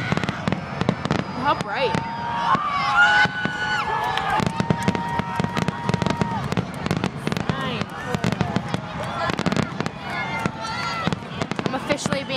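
Fireworks burst repeatedly in a show of colorful shells, with a rapid series of sharp cracks and pops, some crackling trails, while spectators nearby talk and react.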